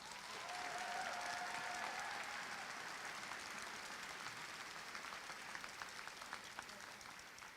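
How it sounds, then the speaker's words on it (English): Graduation commencement audience applauds in a sustained wash of clapping from a large crowd, holding steady before gradually thinning out. "Let's give them a round of applause"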